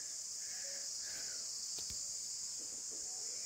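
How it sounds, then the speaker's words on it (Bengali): Crickets shrill steadily along a mountain trail near Kuruli village, a dense, unbroken high chirring drone that holds at even loudness throughout, with a faint thump and distant bird notes, no talk. "এদিকটা দিয়ে ঝিঝি পোকার আওয়াজ।"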